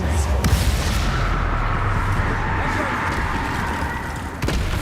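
Spell blasts from the Bombarda blasting charm in Hogwarts Legacy on PS4, a sustained dense rumbling boom with crackling bursts, loud and close, with a voice speaking faintly underneath.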